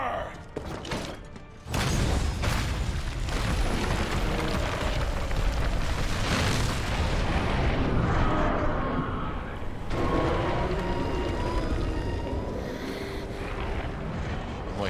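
A Dragonator cannon fires in Monster Hunter World, a sudden heavy boom that leads into a long, loud rumbling roar filling the rest of the scene, with faint game effects layered on top.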